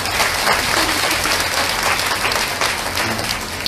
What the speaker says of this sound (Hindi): इसलिए आप लोगों के लिए जोरदार ताली हो जाओ